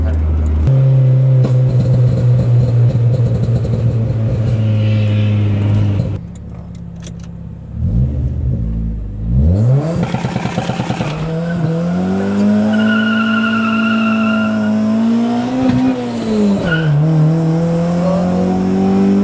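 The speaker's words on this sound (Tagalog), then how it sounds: "Rinig mo yung gulong?" A 1997 Honda Civic EK sedan drives close by, its engine droning and revving through gear changes, with tires squealing and skidding partway through and voices talking over it.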